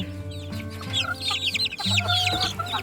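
Newly hatched chicks, brooded under a hen, cheep inside their coop, eager to get out. High, overlapping peeps run on continuously over a steady low hum, close and busy.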